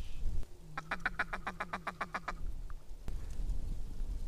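A flock of wild ducks quacks during a duck hunt, a quick run of about a dozen evenly spaced, loud calls over a steady outdoor hiss, then quiet open air.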